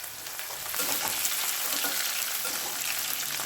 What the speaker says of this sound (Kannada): ಈಗ ಸಾಸಿವೆ ಹಾಕ್ತಾಯಿದ್ದೀನಿ ಕರ್ಬೇವಿನ ಸೊಪ್ಪು ಹಾಕ್ತಾಯಿದ್ದೀನಿ ಜೀರಿಗೆ ಒಂದು ಒಂದು ಒಂದೂವರೆ ಸ್ಪೂನ್ ಹಾಕ್ತೀನಿ ಒಂದು ಕಪ್ ಬೆಳ್ಳುಳ್ಳಿ ಅದು ಸ್ವಲ್ಪ ಕೆಂಪಗಾಗಲಿ